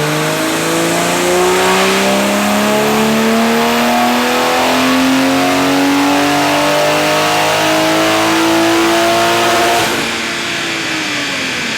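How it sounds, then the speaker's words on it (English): A turbo Toyota Supra on a dyno, the engine revving loudly in one long climbing pull that rises steadily through the gears, then cuts off sharply into a falling whine near the end. "So we're going to get into a little dyno pull for you guys here."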